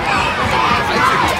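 Loud crowd of schoolchildren shouting and cheering at a school sports competition in the United States, a dense continuous roar of many voices throughout.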